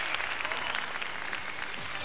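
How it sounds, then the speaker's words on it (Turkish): Audience at an ice dancing event applauds the skater Sıla, a dense, loud and continuous wash of clapping that holds steady for the whole stretch. "Alkışlar Sıla için."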